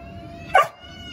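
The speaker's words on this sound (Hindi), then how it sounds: "देखो ये भौंका ना" A Rottweiler gives a single sharp bark on a speak command, close and loud, standing out briefly against quiet room background.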